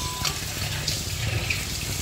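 Singara (samosas) deep-fry in a pan with a close, continuous oily sizzle and bubbling, plus a faint clink or two of utensils, no voices.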